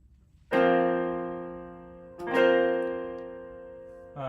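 Suspended chord of root, fourth and fifth struck three times, each ringing and slowly fading, the last cut short; clear and alone with no talk.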